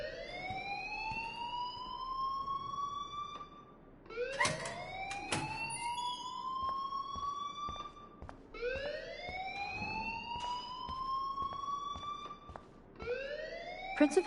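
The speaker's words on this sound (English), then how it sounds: "please turn off that alarm since that's your job" Alarm ringing in the video game Life is Strange, a rising electronic siren-like wail repeating in long sweeps roughly every four seconds, loud and clear with brief gaps between cycles.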